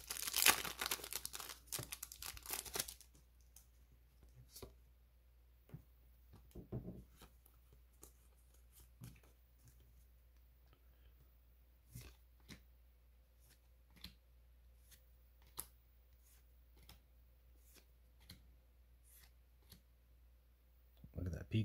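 Pokemon card packs are torn open, with a burst of foil wrapper crinkling at the start followed by sparse, faint rustles, clicks and card handling scattered across a quiet stretch.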